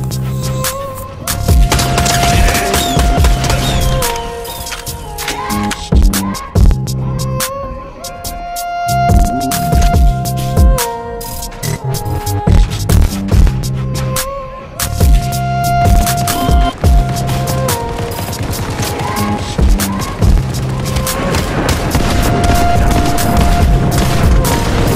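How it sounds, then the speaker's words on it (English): Mythic Frenzy Auto Shotgun in Fortnite firing repeated loud booming blasts in quick bursts over busy game music and effects, with a voice briefly heard. "that's Oscar's Mythic Frenzy Auto Shotgun"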